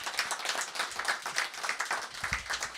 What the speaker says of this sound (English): There is an applause.